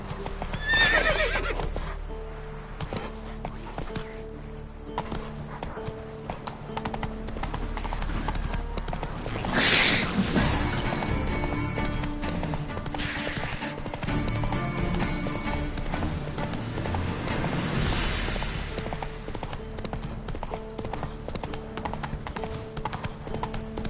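Horse Roach galloping in The Witcher 3, steady clip-clop hoofbeats running throughout with a whinny near the start and a sharp neigh midway, over soft game music.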